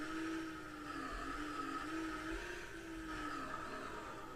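Steady engine drone of a heavy bus driving in a bus simulator game, a continuous whirring hum with slight pitch swells as it moves, moderately loud with no talking.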